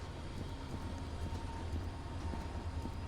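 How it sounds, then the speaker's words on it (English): Train collision with a bus in a Roblox game, recreating the prison bus crash from The Fugitive (1993): a steady, loud low rumble of rail wheels and heavy impact noise running continuously without any voices. "Basically, the train hit a bus."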